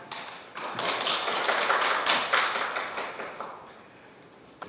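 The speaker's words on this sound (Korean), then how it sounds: "바쁘신 가운데 오늘 컨설팅을 맡아주신 박사님께 뜨거운 박수 부탁드립니다" An audience at a Korean community social-security council results-sharing meeting applauds the consulting doctor, with a steady burst of hand clapping that swells and gradually fades over a few seconds.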